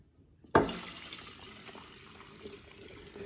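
Kombucha liquid poured into a container with a sudden splash that settles into a quieter trickle and fades.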